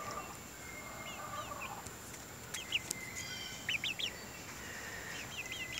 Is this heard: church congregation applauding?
no